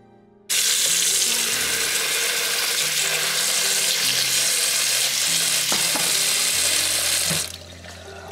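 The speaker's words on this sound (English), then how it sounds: "once your pasta is already done and cooked, you're going to drain it. You're going to also add cold water to stop the cooking process" Cooked pasta draining into a sink and rinsed under cold running tap water, a loud, continuous rushing splash that starts abruptly, holds steady for about seven seconds, then cuts off.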